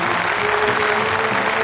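Crowd applause in a 1930s nightclub, a continuous even hiss of many hands clapping somewhat distant, with no voices, on an old film soundtrack with a faint tonal hum.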